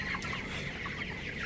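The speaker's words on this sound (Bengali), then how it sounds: "সেদিনের সেই ছোটো ছোটো মুরগি এখন কত বড় হয়ে গেছে।" Broiler chickens in a poultry shed cluck in a soft, busy chorus, several birds overlapping at a moderate distance with a low steady background.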